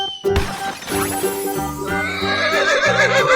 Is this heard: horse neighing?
yes